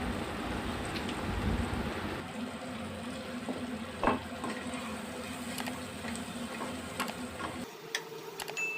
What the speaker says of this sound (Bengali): এবারে আমরা ওই তেলের মধ্যে কেটে রাখা পেঁয়াজগুলো দিয়ে দেবো